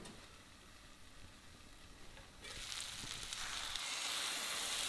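Onions caramelizing over medium heat in a covered pot give a soft, steady sizzle that grows slightly louder and brighter halfway through, with no talking.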